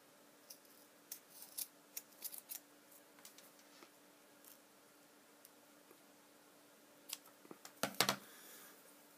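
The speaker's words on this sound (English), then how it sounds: "I'm going to take a pair of scissors and I'm going to cut this off." Scissors make a few quiet, crisp snips through paracord on a flashlight lanyard, spread out over a soft background hiss, ending in a sharper burst of cutting clicks.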